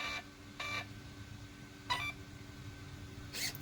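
An RC car's electronic speed controller powers up with a few short, separated beep tones over a steady low hum, heard alone without talk.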